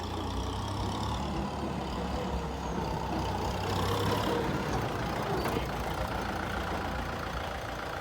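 A Kubota M6040SU tractor's diesel engine idles with a low, even rumble and rattle, steady and fairly close with no voices.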